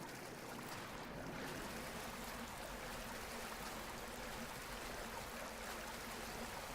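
Flowing river water in Dragon Quest Builders 2 makes a constant, soft, broadband rushing wash with no change in level and no voices.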